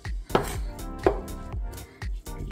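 Conch salad is tossed and mixed with seasoning in a bowl, giving wet, squelching stirs with a few sharper knocks against the bowl, close and rhythmic, with no talking.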